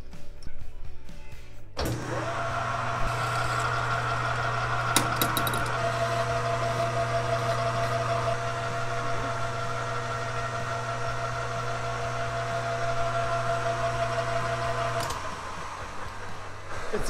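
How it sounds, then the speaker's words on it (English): A hand-held drill, modified into a countersinking tool, cuts a chamfer for a 6mm Allen screw head while making custom clip-on handlebars for an Aermacchi; a steady, loud motor whine runs for about thirteen seconds, then stops. "Now I've got a special drill which I've modified."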